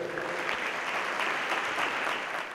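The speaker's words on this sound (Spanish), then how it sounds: "Fuerte el aplauso para recibir a Benjamín Buteler" Audience applause welcoming a speaker to a talk, a dense, steady clatter of many hands clapping at once that fills the hall for the whole stretch.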